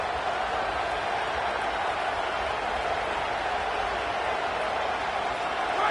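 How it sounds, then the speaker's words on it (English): A stadium crowd in a college football video game cheers in a steady, sustained roar that stays loud and even throughout, with no clear talking over it. "this crowd is not going to fade away, and they're rising up now"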